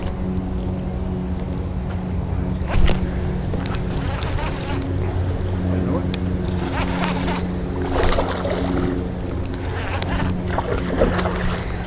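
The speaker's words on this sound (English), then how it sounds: "And give this little motor a tap here." A small outboard motor on a fishing boat drones steadily on Lake Erie near a marina. Its even hum continues throughout, with occasional water splashes and knocks over the engine.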